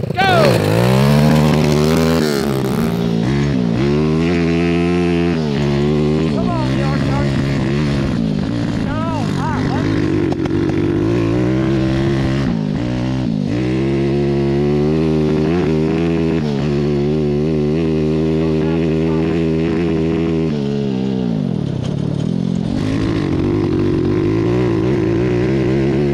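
A homemade go-kart engine revs hard through a hot lap, its pitch climbing and dropping repeatedly as it shifts and slows. The loud, buzzing drone is close and continuous throughout.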